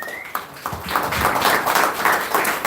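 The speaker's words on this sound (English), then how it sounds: "Stand up and give yourselves a round of applause" An audience gives a round of applause, a steady, noisy wash of many hands clapping that lasts a few seconds at moderate loudness.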